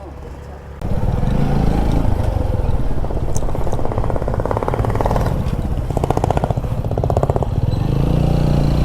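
A four-wheeled quad bike engine runs loud and close in Nagarkot, a steady rough motor drone with clattering, rising and falling slightly in pitch, with voices under it.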